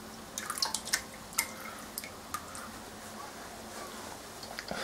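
Boiled gnocchi go into a water bath in a kitchen, giving soft drips and small watery splashes, faint and close, with light clinks and quiet background noise.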